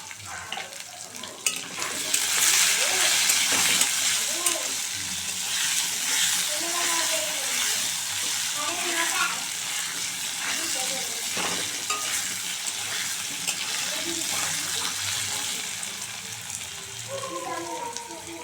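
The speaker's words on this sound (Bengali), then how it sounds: "আলুটা ভাজা ভাজা হয়ে গেছে" Potatoes with salt and turmeric fry and sizzle in a pan while being stirred, a steady crackling hiss with scraping stir strokes and a voice talking intermittently.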